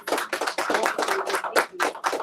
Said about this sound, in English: can we get a round of applause for maybe one for this?